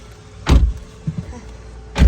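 Someone gets into a car: a firm door thump, a couple of soft interior knocks, then a second heavy door slam, close and loud, with no talking.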